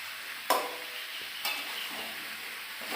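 Meat stir-frying in a pan, a steady low sizzle with a couple of sharp scraping stirs, close and quiet with no talking.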